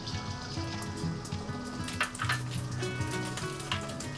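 Beaten egg hits hot oil in a wok for salted-fish and chicken fried rice, producing a close, even, rain-like sizzle that crackles steadily for several seconds without speech.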